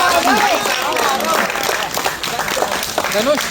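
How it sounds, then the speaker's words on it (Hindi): An audience applauds to welcome a singer at an informal Hindi poetry and song gathering at IIMC Delhi, steady dense clapping with crowd voices and cheering layered over it throughout. "तालियों के साथ स्वागत करिए"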